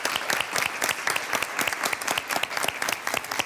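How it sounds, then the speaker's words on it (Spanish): An audience claps for the winning university team at a televised electoral-tribunal event, producing a steady patter of many hands at moderate volume for the whole stretch, with no voices over it. "Un aplauso muy fuerte para ellos"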